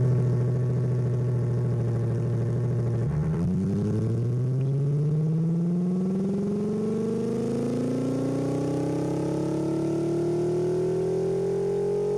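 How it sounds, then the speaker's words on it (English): A 9-cylinder race car engine in the BeamNG.Drive driving game idles with a steady, loud drone, then revs up and climbs smoothly and continuously in pitch for the rest of the clip. "that is a 9-cylinder engine"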